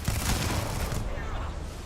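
Enemy weapon fire bursts loudly in the video game Starfield, a dense volley with low booms that fades after about a second, with a voice talking over it.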